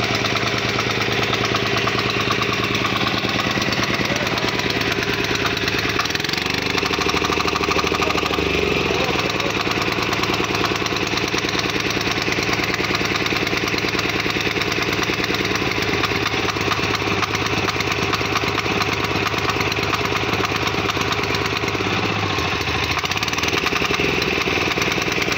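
A new power weeder engine running steadily, a loud, continuous mid-pitched drone with a brief change in tone early on, close to the listener and with no talking throughout.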